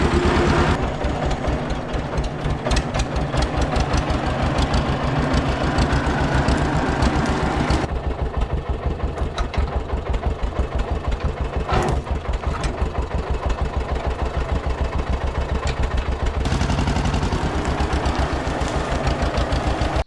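A farm tractor engine idles steadily close by with a rhythmic, knocking low throb, running unbroken for about twenty seconds with slight shifts in tone.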